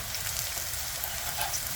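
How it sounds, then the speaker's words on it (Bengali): Coriander leaf fritters made with gram flour, onion and green chilli fry in hot oil, a steady, fairly faint bubbling sizzle with no voices. "তো ধনেপাতার বড়া ভাজা খুবই সহজ"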